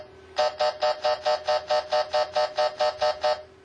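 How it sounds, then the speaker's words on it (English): A Whistler Pro 78 radar detector sounds a K-band alert as a fast run of about thirteen evenly spaced electronic beeps, each bright and buzzy, alone and close with no talk. "that was a K-band alert, or K-band signal I sent to the radar detector"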